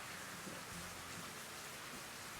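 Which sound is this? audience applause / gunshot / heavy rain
heavy rain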